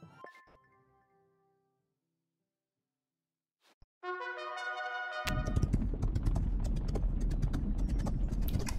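Horse race in Rival Stars Horse Racing begins with a short musical chime, then a steady, loud thunder of galloping hoofbeats on a soft track surface carrying on without pause.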